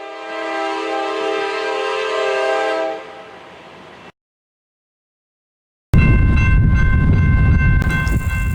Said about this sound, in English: Our first train of the day would be a southbound manifest advancing out of the siding north of the interlocker with 2 GE units up front